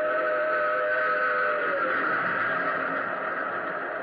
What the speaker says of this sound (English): plunging from the tunnel's mouth, like some black, terrible monster, roared a train. It tore by me in a deafening roar.